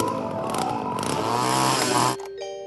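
A chainsaw roars loudly up close, its buzzing engine wavering in pitch for about two seconds before cutting off into a quieter tone.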